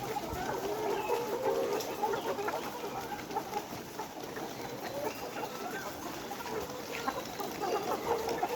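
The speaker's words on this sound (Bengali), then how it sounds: "মুরগিগুলো দেখতে পারতেছেন একদম ডিম আসার আগ মুহূর্তে" A flock of layer hens in a poultry farm, close to the start of laying, fill the space with a dense, continuous chorus of overlapping clucks and soft cackles, steady throughout, with no talking.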